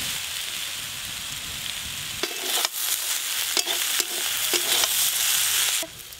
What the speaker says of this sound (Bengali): আলু আর পেঁয়াজ কলি সুন্দর করে ভাজা হয়ে গেছে